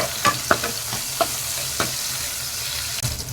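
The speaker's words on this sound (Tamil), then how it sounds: "இப்போ நல்லா வதக்கிடலாங்க." Small and large onions sauté in a pan for a tamarind curry: a steady sizzle runs throughout, broken by several sharp scraping stir strokes up close, with no talking.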